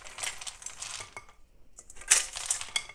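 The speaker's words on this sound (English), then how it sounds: "cover my mixture with a layer of ice" Ice is poured over a cucumber and onion relish mixture in a ceramic bowl, giving two bursts of close, clattering, rattling cubes separated by a short pause.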